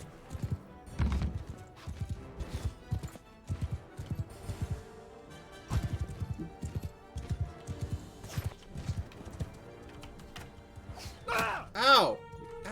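A horse in Mount & Blade II: Bannerlord clip-clops steadily during a siege, the hooves thudding in a regular rhythm through the battle noise, before a short whinny or cry near the end.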